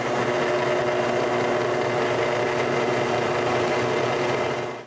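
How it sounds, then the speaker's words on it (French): A drill bores holes through metal plates that will replace broken pieces while redoing cottage soffits, giving a loud, steady mechanical whine that runs unbroken for about five seconds with no talking. "Il faut les couper et leur percer des trous."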